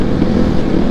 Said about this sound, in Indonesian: Kayak 250 udah ketahuan tuh suaranya.